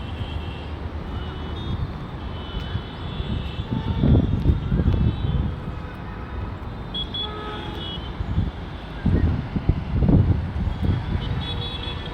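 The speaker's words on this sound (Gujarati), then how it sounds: "ફૂલ પવન ચાલુ થઈ ગયો છે" Strong wind roars and buffets the microphone in a steady low rumble at a high viewpoint over Bhuj, swelling into louder gusts twice along the way.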